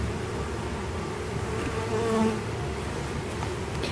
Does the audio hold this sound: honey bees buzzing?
yes